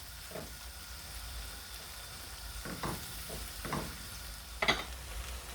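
Garlic added to golden brown onions fries in a pan for a brain curry, a steady low sizzle broken by a few scraping stir sounds and a sharper crackle near the end.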